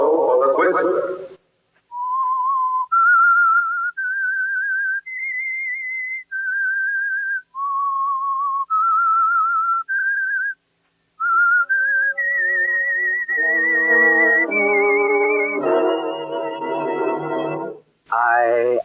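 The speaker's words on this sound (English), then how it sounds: "That whistle is your signal for the Whistler" A clear whistled melody of sustained, stepping notes, loud and close, the radio theme of The Whistler, with a brief pause midway before the tune resumes and swells with accompanying tones.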